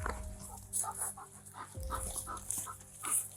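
A police dog pants steadily and rapidly close by while searching a shed, rhythmic breathy huffs repeating at a moderate, fairly quiet level with faint whimpers mixed in.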